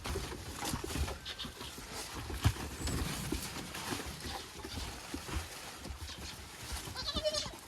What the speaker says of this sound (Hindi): ये रहे कुछ छोटे छोटे बकरियां, इनके बच्चे